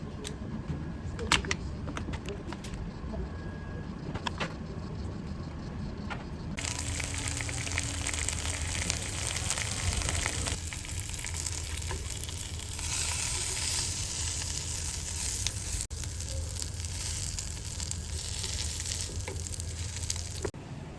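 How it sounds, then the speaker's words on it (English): Homemade bacon substitute frying in a frying pan in its own fat, a steady crackling sizzle that swells louder partway through and continues close up without talk. "I put them in the frying pan."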